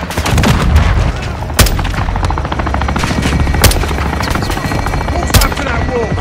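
In Call of Duty: Modern Warfare II, a helicopter gun run on a building brings constant loud rotor drone with rapid cannon fire and several sharp booming impacts, while radio voices talk underneath.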